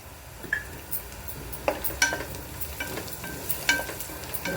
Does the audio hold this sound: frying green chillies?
yes